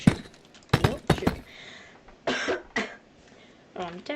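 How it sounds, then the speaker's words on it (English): Several sharp coughs in quick bursts, then a couple of throat-clearing sounds, close to the mic during a live Minecraft build battle stream, with some background rustle between them. "I'm definitely coughing a lot today."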